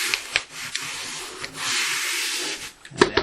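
A peel-and-stick foam edge strip is pressed and rubbed onto drywall along an uneven floor, with soft scraping rubs, brief pauses and a couple of sharp taps near the end.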